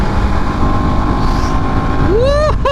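A TVS Apache RR310 motorcycle in track mode accelerates under heavy wind rush, its engine note climbing sharply in pitch over the final second as it revs hard toward speed.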